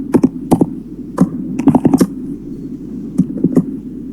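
Code being typed on a computer keyboard, close and loud clusters of crisp key clicks in short irregular bursts with brief pauses between them, no speech.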